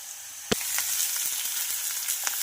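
Chopped onion dropped into a pan of garlic already fried golden, with a sharp splash at the start and then a loud, steady sizzle scattered with small pops and stirring clicks.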